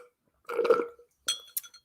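A drinking glass of water clinks a few times as someone drinks from it, with one longer rattling contact followed by two short, close taps in an otherwise quiet room.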